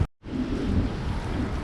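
Steady rain near Niagara Falls makes a dense, loud outdoor wash after a brief dropout at the start, with no talk.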